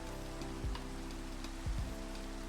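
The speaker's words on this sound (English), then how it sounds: "It's the rain." Steady rain in the Minecraft video game, an even hiss held under a few soft low thumps and faint tones, no talk.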